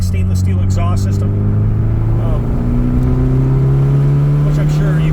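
An Abarth car with a new MPX stainless steel exhaust system runs close by, its engine droning steadily with a slowly rising pitch, and faint voices sit under the engine noise.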